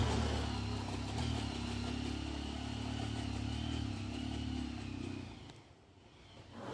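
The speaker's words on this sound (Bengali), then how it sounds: "বাইক নিয়ে কিভাবে সিঁড়ির ওপর থেকে উঠে যাচ্ছে" A motorcycle climbs stone steps on the Parasnath Hill trek trail in Jharkhand, its engine droning and revving at moderate distance, with clatter along the way, then dropping away briefly near the end before picking up again.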